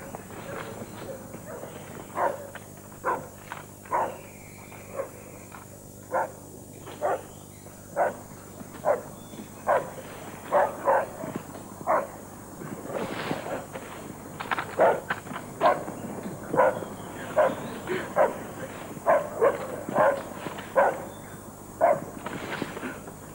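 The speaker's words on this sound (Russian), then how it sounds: "Хорошая собака." A dog barks again and again in short, sharp bursts over a low steady background, with a few quicker yips mixed in throughout.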